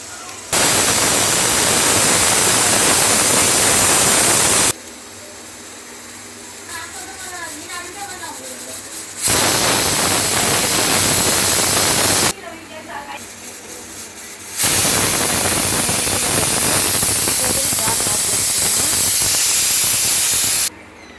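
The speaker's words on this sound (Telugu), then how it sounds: "ఇప్పుడే మూత ఓపెన్ చేయొద్దండి, ఆవిరి పోయినాక చేయాలి." A pressure cooker hisses loudly with steam while gongura dal cooks, coming in three long bursts of harsh broadband hiss separated by quieter gaps where a voice talks.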